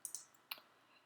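A computer mouse clicks through pictures: three quick, sharp, faint clicks, two close together near the start and one a moment later, in a quiet room.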